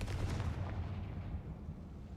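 A Confringo fire spell bursts in Hogwarts Legacy with a heavy, rumbling explosive boom that rolls on as a dense low roar for a couple of seconds, with no talk over it.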